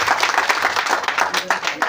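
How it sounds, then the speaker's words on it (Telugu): Villagers clap together to welcome a guest at a village event where sewing machines are given to women. The dense applause is mixed with a talking voice. "గట్టిగా మన గ్రామం తరఫున చప్పట్ల ద్వారా స్వాగతం పొందుతారు"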